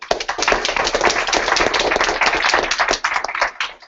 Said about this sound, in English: So, round of applause for Nelson.